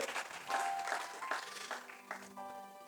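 A church congregation applauds during a French-language sermon, a moderately loud, steady wash of clapping with tonal music or singing threaded through it.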